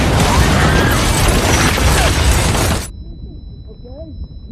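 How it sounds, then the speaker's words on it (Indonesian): A tank fires on a building in a film scene: a loud, sustained roar of blast and crumbling debris that cuts off sharply, leaving faint background sounds. "tank tersebut menembak gedung itu hingga membuat semua orang yang di dalam sana tewas seketika"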